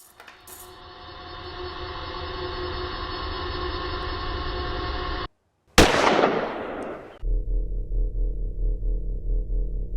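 Gunshots ring out at a home during a violent confrontation: a sustained rumbling roar cuts to sudden silence, then a sharp loud crack bursts out with a decaying noisy tail before a lower steady hum resumes.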